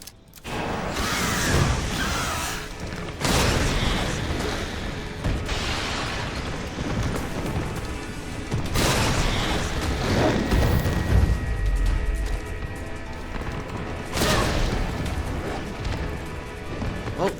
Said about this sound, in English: Let's get the hand grenades out.